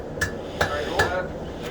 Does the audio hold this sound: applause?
no